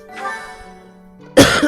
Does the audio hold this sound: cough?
yes